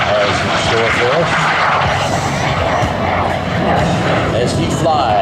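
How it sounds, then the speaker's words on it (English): A T-33 jet aircraft roars overhead at an air show, a loud, steady, broadband rush of engine noise that holds throughout without letting up. "as he flies T-33, the T-Bird."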